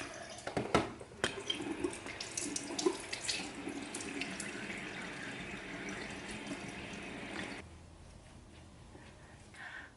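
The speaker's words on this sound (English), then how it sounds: "I rinse off my brush" Tap water runs steadily into a bathroom sink while a face and a waterproof battery-operated cleansing brush are rinsed, with splashy irregular bursts early on, then the flow cuts off near the end, leaving quiet.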